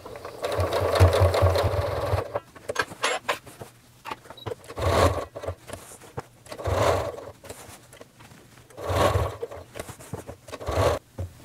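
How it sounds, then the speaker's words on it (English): A sewing machine stitches a thrifted quilt being turned into a table topper, running in several short bursts of whirring motor and needle clatter, separated by brief pauses with soft rubbing of fabric. "I'm going to start stitching."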